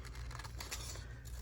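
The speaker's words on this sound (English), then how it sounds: "I'm going to cut that space out." Scissors snip out a piece of a journal printable in a brief, close series of crisp cutting and scraping sounds, quiet and alone without talk.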